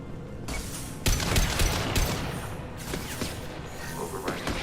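An overridden turret in Mass Effect Legendary Edition fires rapid, dense bursts of gunfire that continue steadily for several seconds, with sharper crackling volleys partway through.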